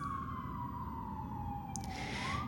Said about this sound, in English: Do you guys hear those sirens?